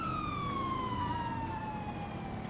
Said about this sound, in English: You can actually turn off your siren now